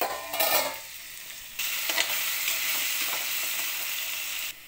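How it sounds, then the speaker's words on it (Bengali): Onion stalks fry in a hot pan with a steady bright sizzle, broken by scraping strokes of a spatula as they are stirred, loud and close with no talking. "এবার চাপা খুলে একটু লাল লাল করে ভেজে নেব"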